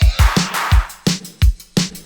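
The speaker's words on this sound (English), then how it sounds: "there is this drum fill, which is often played at the end of a section to enhance the transition to the next" A pop drum fill closes a section with a quick run of close, loud kick, snare and tom hits. It then settles back into a steadier beat with cymbal splashes.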